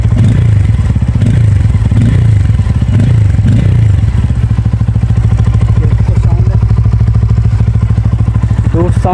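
A loud, rough 2024 Bajaj Pulsar N250 motorcycle engine with its stock muffler removed idles with a deep throaty rumble and rhythmic chugging, rising and falling a few times before settling into a steady, unmuffled drone.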